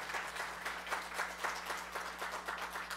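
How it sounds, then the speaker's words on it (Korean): A church congregation gives a guest a welcoming round of applause, steady scattered clapping from many hands, faint and fairly distant, continuing evenly throughout. "박수로 환영하시겠습니다."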